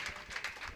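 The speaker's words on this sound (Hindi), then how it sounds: "अगर आप थक गए हो तो एक बार तालियां बजा दीजिए" Audience at an All India Mushaira poetry recital gives a short burst of crowd applause, dense rapid clapping heard from the hall at moderate volume.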